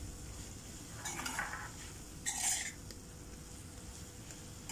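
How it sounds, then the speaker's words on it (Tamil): Bitter gourd tossed with chilli powder in a pan, a spoon scraping and stirring in two short bursts over a faint steady background hiss, no voices. "நல்லா கிண்டி விடணும்"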